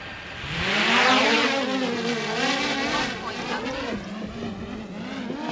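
A DJI Mini 3 Pro drone lifts off in windy conditions, its propeller whine rising and wavering in pitch, loud and close, with steady wind rush behind it.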